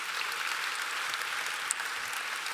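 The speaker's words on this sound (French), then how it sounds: "applaudissements, s'il vous plaît" Audience at a public event gives a short round of steady, even applause, moderately loud and continuous, with a small bump of noise near the end and no talking over it.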